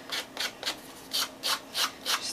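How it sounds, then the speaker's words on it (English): Sandpaper rubbed along the edge of a paper craft tag to trim and distress it, about eight short rasping strokes in a steady rhythm, close and fairly quiet with no talking. "And then sand the other side as well,"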